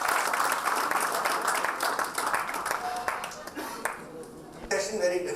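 An audience at an orientation programme applauds to welcome a speaker, steady clapping that thins out toward the end as a voice begins speaking.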